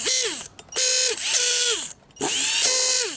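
A small electric motor, faulty and cutting in and out, whirs in three bursts with rising and falling pitch, separated by short pauses, loud and close.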